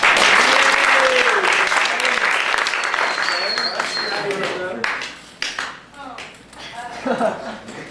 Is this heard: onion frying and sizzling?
no